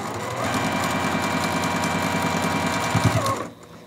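A sewing machine runs steadily, stitching a beginner quilt block. Its fast, even motor hum and needle chatter is loud and close, with no talking, and it stops abruptly at the end.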